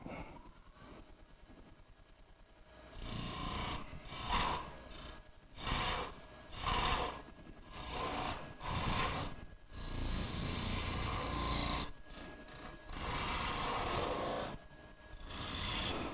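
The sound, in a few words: sanding wooden toothpick holders on a lathe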